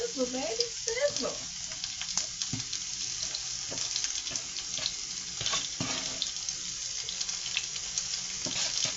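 Steady sizzling of onions frying in a pan, a continuous crackling hiss with a few louder pops, alone without talk.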